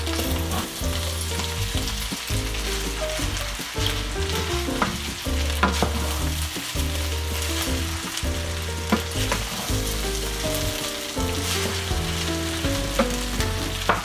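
Rice fries in a pan while being stirred and broken up for home-made fried rice: steady, dense sizzling with scraping and clinking of the utensil, close and continuous, with no talk.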